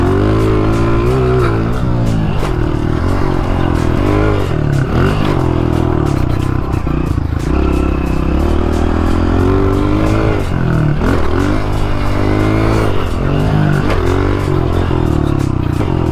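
A 125cc pit bike engine revs loudly and continuously close by, rising and falling as it is throttled through a riding section, with no talk over it.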